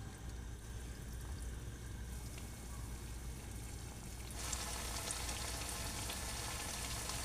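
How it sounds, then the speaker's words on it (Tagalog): Turon, banana spring rolls, frying in hot oil, with a soft continuous sizzle that grows brighter partway through, faint and steady with no voices. "So nagpainit na ako ng mantika. Tara, samahan niyo ako, ipiprito na natin."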